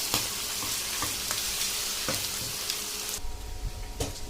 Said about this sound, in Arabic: هبدا بقى احط الثوم عشان الثوم يتشوح هو كمان مع الكوارع